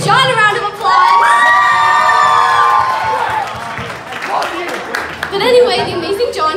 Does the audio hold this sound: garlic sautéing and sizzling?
no